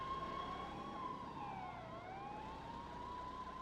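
Emergency sirens wailing in a city street scene within a game, a faint, distant tone that sweeps down and back up over a low background hum, with no talking.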